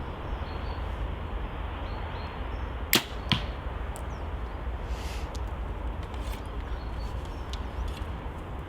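A single sharp, tight thwack as a Hoyt Alpha Elite compound bow shoots an arrow, with a second quieter snap just after, over steady outdoor background noise.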